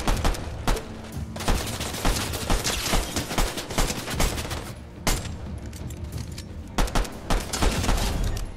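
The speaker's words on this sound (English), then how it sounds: "Somebody's shooting at me" Gunfire in a Fortnite match where the player is only using pistols, dense rapid shots in bursts with sharp cracks and a few louder single reports, loud and continuous with no talk.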